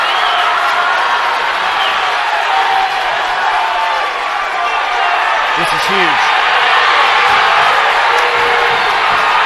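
Loud crowd at a 2019 Cathedral vs Roncalli high school wrestling match roars and cheers continuously throughout, with whoops rising near the middle and a commentator talking over the noise.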